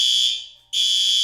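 An office fire alarm blares a loud, piercing electronic tone, cuts out briefly for a split second, then resumes at full strength, nearby and with no talking.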